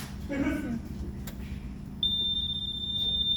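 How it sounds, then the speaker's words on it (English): A flame detector alarm goes off during a sprinkler head test at a fire-protection training facility in New Jersey. It is a steady, piercing electronic tone that starts midway and holds, following brief voices at the start. "that's the flame detector working"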